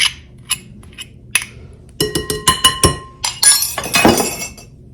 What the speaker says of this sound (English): we're just going to stir it all up